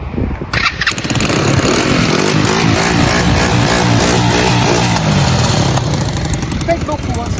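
A quad engine starts and runs loud and close, revving roughly with popping backfires through its exhaust, while people talk nearby over the steady mechanical roar.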